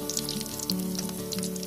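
Baby corn coated in rice-flour batter with onion fries in hot oil, giving a close, continuous sizzle dotted with crackles and small pops, over a steady low background hum.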